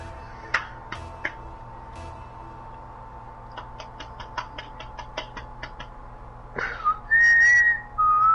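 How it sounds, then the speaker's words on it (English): A person whistles a loud, wavering tune near the end, after a stretch of scattered ticks and light knocking taps over a quiet background hum. "Stop whistling."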